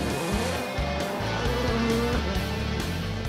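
Rallycross race cars at Loheac roar past in a dense, continuous engine howl with rapid gear shifts and revving, loud and unbroken throughout.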